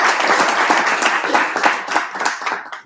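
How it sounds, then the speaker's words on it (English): Dense applause from an academic conference audience, many hands clapping loudly and continuously, fading slightly at the end. "Let us give him a round of applause."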